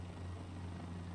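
A steady, faint aircraft engine drone in Microsoft Flight Simulator 2020, a low even hum with strong tonal bands holding constant through the short stretch, no talking.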